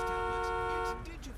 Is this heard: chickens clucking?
no